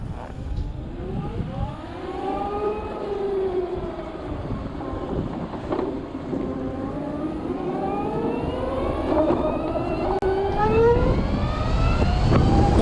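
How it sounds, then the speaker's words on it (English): An all-electric Harley-Davidson LiveWire motorcycle accelerating, its motor giving a loud tonal whine that rises, dips and climbs again over a constant rushing background. "when you just accelerate, it speeds off"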